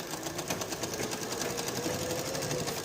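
A sewing machine stitches a V-neck frock in quick, even rapid-fire pulses, a close, fairly quiet mechanical whirr running without pause.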